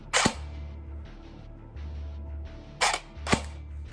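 A CYMA full metal M4 airsoft AEG dry fires on semi-auto: three sharp, loud mechanical snaps spaced apart, each a crisp crack with a quick decay over a low, steady background hum.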